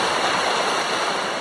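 Deep river water streams steadily past a pontoon beside a tree trunk, a continuous broadband rush with no pauses, close and fairly loud throughout.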